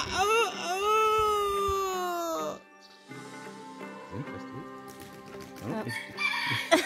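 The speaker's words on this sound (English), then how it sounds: "There's James. James the cockerel." A farmyard cockerel crows loudly and close by in one long, wavering call, followed after a short pause by softer answering crows and clucking sounds.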